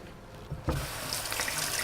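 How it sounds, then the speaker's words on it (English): Running water from a kitchen tap rinsing fruit: a steady close hiss of flowing water that thickens suddenly as the stream hits the fruit and sink. "Make sure to always wash your fruits"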